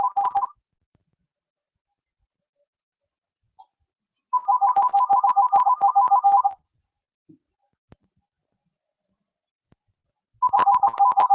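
Telephone ringing in three separate bursts of electronic warbling tone, clear and fairly loud against near silence, the middle burst lasting about two seconds and the others shorter.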